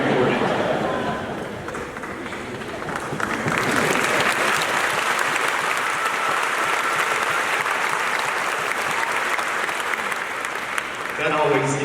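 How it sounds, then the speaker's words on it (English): A graduation crowd of parents claps in sustained, dense applause, loud and full, swelling after a brief dip, with a voice speaking over it at times. "That always gets the parents clapping."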